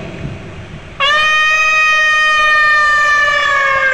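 A man imitates a jackal howling. After a brief quiet start, a loud, steady, siren-like howl rises suddenly and holds close to the listener until the end.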